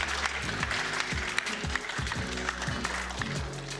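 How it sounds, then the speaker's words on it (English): Audience applause at a conference panel session, moderate and continuous, mixed with a low rhythmic thumping and faint talk in the room. "Can I get a round of applause for these folks?"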